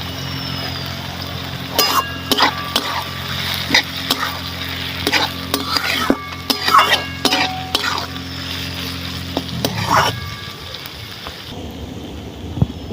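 Sugar lightly frying in a pan for a healthy chicken dish, with a soft sizzle under a series of sharp scraping stirs and clatters of the spatula; a low steady hum drops away near the end.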